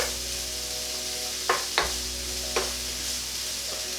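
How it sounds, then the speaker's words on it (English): Mushrooms frying and browning in a pan give off a soft, steady sizzle. A few brief scrapes of stirring rise above it, nearby and without any talk. "those mushrooms are sort of browning and shrivelling"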